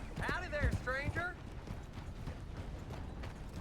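Horse hooves clip-clop steadily in the Red Dead Redemption 2 video game, a voice talking over the first second before the hoofbeats continue alone under a faint background.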